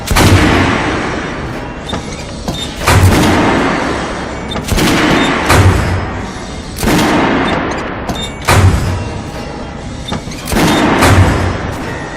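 Repeated bursts of gunfire ring out on a weapons test range in the shooter game Metro: Last Light, loud and close, each volley lasting about a second with short pauses between them.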